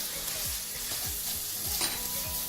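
Paneer cubes being stirred into a creamy methi malai gravy in a pan, a steady sizzle and bubbling with repeated scraping strokes of a spoon against the pan, close and continuous with no talk.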